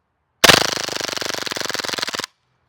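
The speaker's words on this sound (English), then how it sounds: "see if it can handle full auto without stopping until we empty the mag" A Raptor SR-2M airsoft gas blowback rifle fires one sustained full-auto burst of rapid, evenly spaced, loud, snappy shots for about two seconds until the magazine empties, then stops abruptly into silence.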